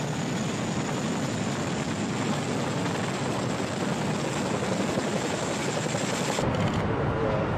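A helicopter flies steadily nearby, its rotor thrum and engine roar loud and continuous throughout.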